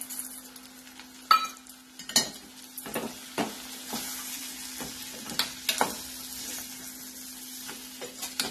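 Toor dal mixture being stirred in a frying pan, soft sizzling throughout with scattered scraping clinks of the spoon against the pan, close and steady at moderate level.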